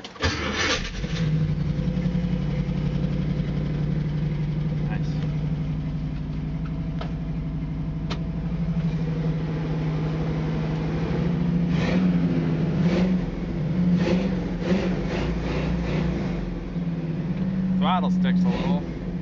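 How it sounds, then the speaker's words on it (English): A 1979 International Scout II with a 345ci V8 and three-speed automatic cranks and fires, settles into a loud, steady, rumbling idle, then is revved in several throttle blips, up close with no talk over it. "Let's start it up for a minute."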